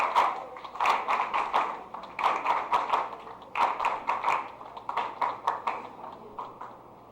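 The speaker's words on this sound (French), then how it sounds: "Applaudissez-les, s'il vous plaît." An audience at a nursing school certificate ceremony in Les Cayes, Haiti, claps in uneven waves of rhythmic applause, rising and easing in bursts, fairly faint and continuous for several seconds without talk.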